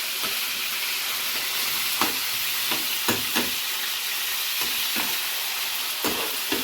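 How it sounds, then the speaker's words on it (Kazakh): Chicken leg quarters sizzle steadily in a hot pan for homemade doner, with a continuous frying hiss broken by several sharp stirring scrapes and pops close by. "Мына бұйыртса біз қауық етін қуырып жатырмыз."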